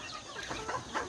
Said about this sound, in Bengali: এই যে মুরগিটা দেখতে পারতেছেন